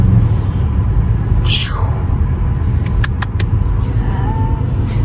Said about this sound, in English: You can hear that thing sucking. Can you guys hear that?